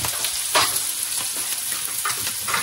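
Pork belly frying in a pan for kimchi fried rice, a dense continuous sizzle with occasional stirring scrapes, close and steady with no talking.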